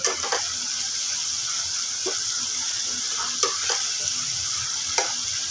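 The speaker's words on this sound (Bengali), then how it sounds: "এবার এটাকে ভালো করে নাড়িয়ে চাড়িয়ে নিতে হবে তেলের সঙ্গে" Onion paste frying in oil for butter chicken, stirred with a few sharp spoon scrapes against the pan over a steady bright sizzle, close and moderately loud with no talking.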